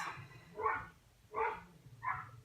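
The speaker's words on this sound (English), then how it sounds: "it's like a dog barking central upstairs right now" Several dogs bark in short, spaced yips from another floor of a house, three or four muffled barks coming from upstairs at moderate distance with no speech.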